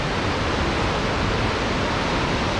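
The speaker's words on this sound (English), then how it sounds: "There's some pretty intense rapids." Powerful river rapids rush through Piers Gorge in Michigan's Upper Peninsula, a loud, steady, broadband roar of churning whitewater that fills the whole clip without a break.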